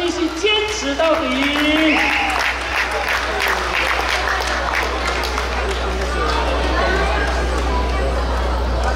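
An audience at a Rukai millet harvest and swing festival in Taoyuan claps steadily in a dense, sustained wave of applause, with crowd chatter mixed in.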